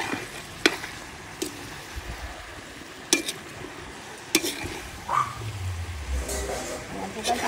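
Chicken and vegetables cooking in a pot for ginataang gulay, being stirred: a few sharp scraping clinks of a utensil against the pot over a low bubbling sizzle, with faint background noises.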